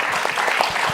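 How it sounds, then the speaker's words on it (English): A short burst of steady audience clapping at a summit talk on street art and tourism, dense and unbroken for about a second. "Let's give them the clap."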